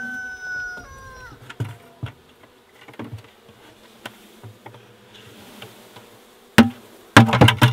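A honey bee swarm being captured and transferred hums in a faint, steady drone beneath scattered knocks and thumps from handling, ending in a louder clatter of bumps.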